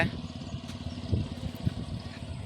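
A tractor engine runs with a steady, low, throbbing chug, moderately loud and continuous throughout, with a couple of slightly stronger pulses and no speech.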